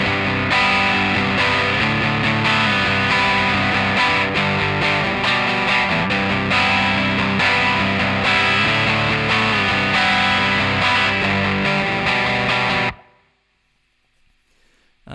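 A distorted electric guitar plays chorus 2 of a song, dense crunchy power chords strummed steadily for about thirteen seconds before stopping abruptly into near silence.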